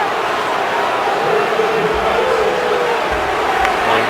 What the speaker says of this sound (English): Crowd, of course, they love it after watching that replay.